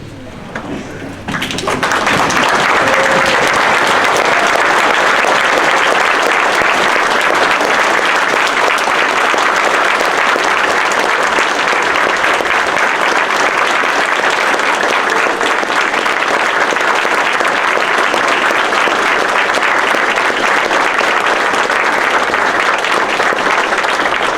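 Sustained applause from a large standing audience at an Eddie Guerrero Day event in El Paso, Texas, steady and loud after a brief quieter opening, continuing without a break.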